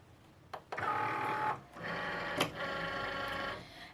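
A Cricut Maker or Explore cutting machine drawing in its mat, with a click followed by two stretches of whirring motorized feeding, close and moderately loud.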